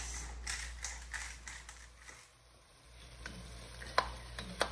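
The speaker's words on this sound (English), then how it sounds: "Help it along by smushing the pieces with the back of your spoon a little bit" A spoon presses and scrapes cantaloupe pieces in a quietly simmering bacon cream sauce, with faint bubbling and soft irregular scraping taps, fairly low in level, no voices.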